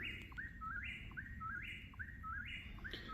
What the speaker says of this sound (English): this whippersnapper bird, whatever it is, it's been going non-stop.